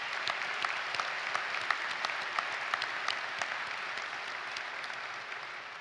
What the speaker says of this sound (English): So let's applaud all of those who are here to support our graduates